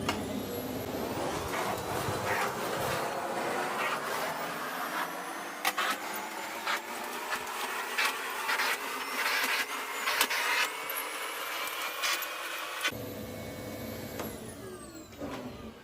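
A hotel-industry vacuum cleaner runs steadily and fairly close for most of the stretch, a continuous broadband whine with occasional bumps and clicks, cutting out sharply near the end.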